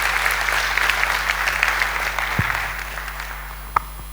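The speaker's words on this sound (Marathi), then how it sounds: "8 टाळ्या वाजल्या पाहिजेत कमीत कमी" A room of attendees at a leadership session in Nashik claps in a dense, steady round of applause that gradually fades, with a single sharp knock near the end.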